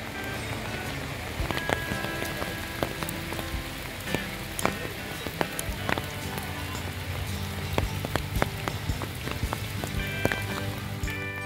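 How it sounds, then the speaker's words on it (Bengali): Rain falling at the Ananthagiri coffee plantation in Araku Valley, a steady wash of heavy rainfall with sharp drops ticking on nearby surfaces, continuous and close, no voices. "তখনও বেশ বৃষ্টি হচ্ছে।"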